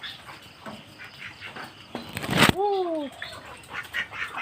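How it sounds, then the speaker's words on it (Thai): Native chickens on a flooded, muddy farm give one loud, harsh squawk partway through, after a short burst of noise, over a restless background of rustling and faint calls. "นี่ครับทุกคนไก่บ้าน"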